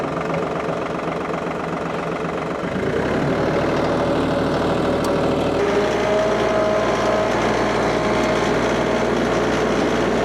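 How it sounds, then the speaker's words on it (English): A 5520 tractor engine runs loud and close with a steady, rough diesel rumble that grows heavier a few seconds in and holds on without pause. "I really have learned to really like this tractor a lot."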